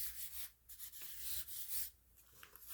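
Rubbing over a Chalk Couture silk-screen transfer to fuzz it, soft close scrubbing strokes in repeated bursts with short gaps, quiet and without talk.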